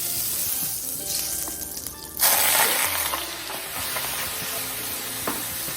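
Chicken liver sizzles in three tablespoons of hot butter, a steady frying hiss that jumps louder partway through as the pieces are stirred and chopped in the pan.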